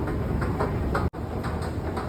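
An MRT train arriving at an underground station in Malaysia, a steady close rumble with faint clattering pulses and a brief dropout midway, no talk.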